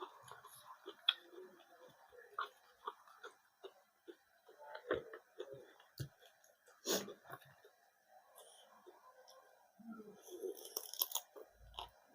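Someone bites and chews a crispy salmon dish with crab and roe in a spicy fermented fish sauce, giving scattered close, faint crunches with pauses between them and brief soft vocal sounds.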